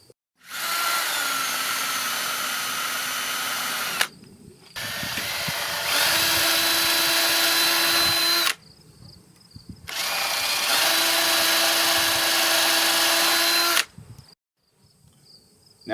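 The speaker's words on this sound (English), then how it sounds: "you can drill 1/8 inch pilot holes approximately 1 inch deep" A power drill whines steadily in three long bursts, pausing briefly between each, close and loud as it bores 1/8-inch pilot holes about an inch deep into wood.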